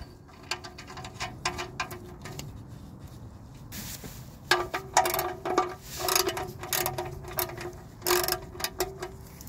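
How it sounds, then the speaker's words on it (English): Ratchet tightening the oil drain bolt on a 1998-2002 Honda Accord with a four-cylinder engine, heard as close bursts of quick clicking in several short runs, with brief pauses between them. "Install the drain bolt back in."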